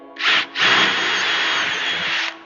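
A power drill fitted with a 1/2 inch bit runs loud and close in a workshop, with one brief whirring start, a short stop, then a steady drone for about two seconds before it winds down.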